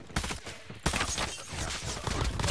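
Rapid automatic bursts from a deployed sentry gun in a Call of Duty match, loud clattering fire in quick successive volleys that starts abruptly and keeps rattling without pause.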